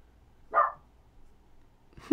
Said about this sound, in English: My dog is just dying to chime in.